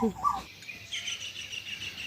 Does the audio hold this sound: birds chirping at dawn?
yes